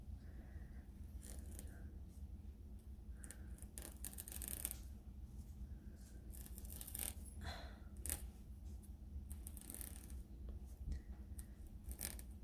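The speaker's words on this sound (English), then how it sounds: "I'm just gonna cut along it." Scissors snip through a strip of fur fabric in a run of short, crisp cuts along the selvage edge, with small rustles of the fabric between them, close by and fairly quiet.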